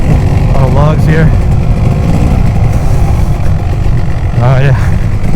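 A Kawasaki KX250 two-stroke enduro dirt bike ridden along a wooded trail, its engine a loud continuous drone that rises and falls with throttle, heard close up with someone talking over it.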